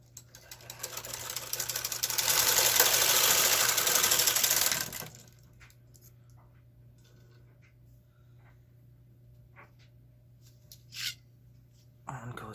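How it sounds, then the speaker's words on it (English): Knitting machine carriage drawn across waste yarn, a close mechanical whirring rush lasting several seconds and then stopping, followed by quiet with a few faint clicks and handling noises. "Yarn is loaded, knitting across."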